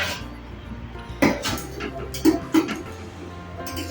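A metal lid set onto a pot of mutton curry on the stove: a sharp clank, then a couple of lighter metallic taps and rattles as it settles, close and fairly loud against a quiet kitchen background.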